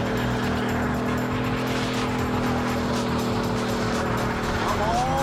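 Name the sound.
lifted 2014 Chevy Silverado 1500 smoking its tires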